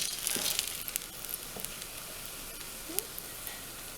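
Grilled cheese sandwiches sizzle steadily in a pan as they are flipped, a close, continuous frying hiss broken by a few soft scrapes and taps of the spatula, with no talking.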